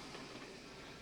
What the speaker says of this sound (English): the Orient Express is at last arriving